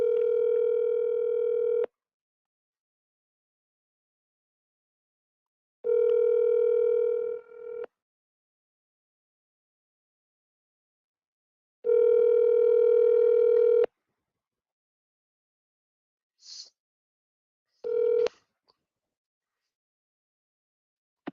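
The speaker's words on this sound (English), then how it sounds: "Answer the phone, Andres" Ringback tones of an outgoing telephone call: three long steady ring pulses spaced several seconds apart, clear and isolated against silence, followed by a couple of short clicks and a fragment of another tone.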